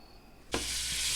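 A sudden burst of loud, close sizzling erupts halfway through as butter melts in a hot frying pan, continuing as a steady hiss.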